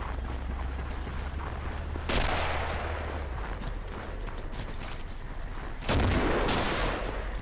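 An artillery barrage in a war video game: a continuous rumbling roar with two heavy, booming blasts that swell in quickly and linger, with no voices.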